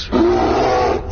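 A bear sound effect, one short loud growling roar lasting about a second, close and alone with no talk.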